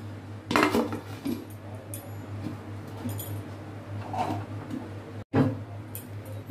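A lid goes onto a pot of saffron pulao with several metallic clanks and clinks of cookware, scattered over a low steady hum, including a sharp knock near the end.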